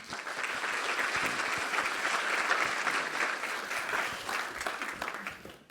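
Audience applause at a business presentation, a dense steady clapping from a room of people that holds for several seconds before thinning slightly at the end.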